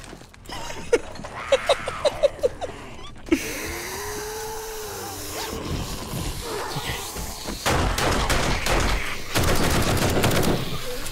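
Rapid bursts of gunfire in the zombie survival game 7 Days to Die, Alpha 19 on Insane Nightmare difficulty, with sharp shots early, then dense sustained firing and heavy thumps growing louder toward the end.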